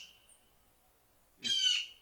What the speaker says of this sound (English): did you hear the blue jays in the background?